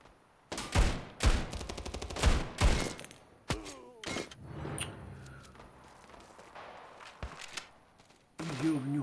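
Desert Eagle pistol shots in the mobile shooter Standoff 2, several sharp loud bangs in quick bursts early on, then scattered fainter shots, footsteps and game effects, with brief talk.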